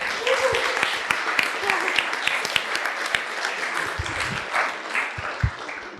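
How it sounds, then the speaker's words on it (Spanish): Applause from a retreat audience, a ragged mix of loud individual claps over a softer crowd clatter, with faint voices underneath, fading unevenly over six seconds. "Un aplauso."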